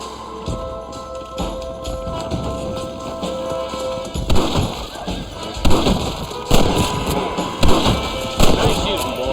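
Gunshots in the Red Dead Redemption Wild West video game, several sharp thudding bangs spaced through the second half, near and fairly loud over a steady game ambience and music, with voices talking.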